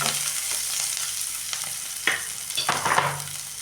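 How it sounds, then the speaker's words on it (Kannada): Onion and curry leaves frying in a pan, a soft steady sizzle with a few sharper stirring scrapes and clatters near the end. "ಕರಿಬೇವು ಹಾಕ್ಬಿಟ್ಟು ಹಿಂಗೆ ನಾನು ಸ್ವಲ್ಪ ಫ್ರೈ ಮಾಡಿ ಈರುಳ್ಳಿ ಸ್ವಲ್ಪ ಹಸಿ ವಾಸನೆ ಹೋಗಬೇಕು ಅದಕ್ಕೆ ನಾನು ಫ್ರೈ ಮಾಡ್ತಾ ಇದ್ದೀನಿ"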